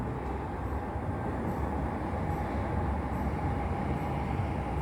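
A light rail train rumbles steadily past with a broad low roar, no voices, the noise holding even throughout.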